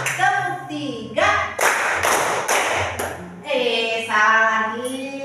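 Hands clapping in a counted clapping game: a voice speaks and chants throughout, and a group claps in a few sharp bursts under it.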